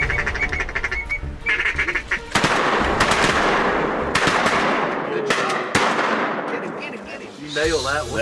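Rapid shotgun blasts ring out from a duck blind during a morning duck hunt, several loud, close reports in quick succession mixed with quacking ducks and outdoor noise.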